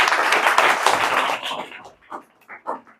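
Students in a classroom burst into loud applause that fades after a second or so into a few scattered, separate claps.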